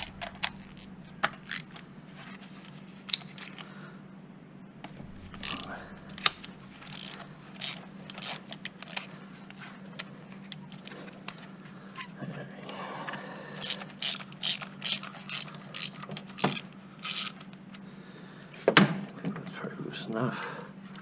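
Rapid clicking of a socket ratchet wrench working spark plugs loose on a Chevy Cruze engine, in repeated close bursts with pauses, while someone talks over parts of it.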